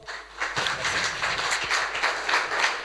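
An audience applauds a Citibank data officer at a banking event, a steady wash of clapping from a modest crowd sustained throughout, fairly close and even in level.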